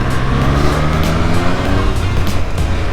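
A 2020 Triumph Street Triple RS inline-three motorcycle engine revs loudly and close up, a steady rough growl with rising and falling pitch, heard on a rainy ride through city streets.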